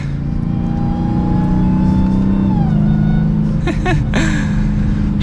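A 2021 Dodge Challenger SRT Super Stock engine revs steadily with a high, rising supercharger whine riding over the rumble, then the pitch drops and the engine note shifts.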